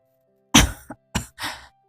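A few short, dry coughs close up from an elderly man, a throaty hack followed by two more quick bursts in near silence.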